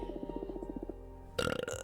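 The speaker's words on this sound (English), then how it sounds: "Pardon the burping." Close, low burps from a person, one drawn-out gurgling belch followed by a shorter, louder burst, alone without speech.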